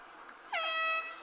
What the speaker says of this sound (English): There's the air horn, and that is the end of the 3rd quarter.